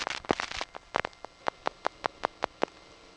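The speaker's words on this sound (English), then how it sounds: "One thing you're going to be hearing a lot of in this tape is revertive pulsing" Revertive pulsing from a panel telephone office selecting an outgoing trunk, recorded in Brooklyn's GEdney 9 panel exchange in 1977: a burst of rapid clicks gives way to a steady train of evenly spaced, crisp clicking pulses, clear and alone.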